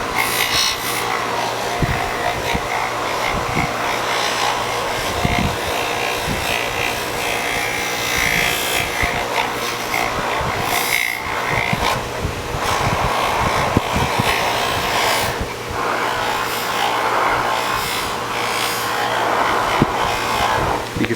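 A buffing wheel with no compound polishes a piece of Kydex, giving a loud, constant motor whine and rushing friction noise, broken by faint taps and scrapes.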